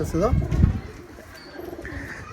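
Giribaj pigeons on a farm in Rajshahi give low throaty coos near the start, softer cooing trailing after, with a voice briefly present.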